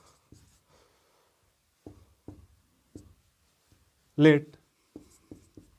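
Short, scratchy strokes of a pen or marker on a board during a Class 8 maths lesson on parallelograms, in several separate bursts, with a teacher briefly speaking between them.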